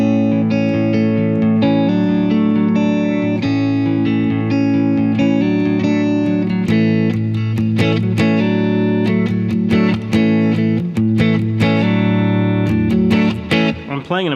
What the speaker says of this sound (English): Let me throw in a little distortion there.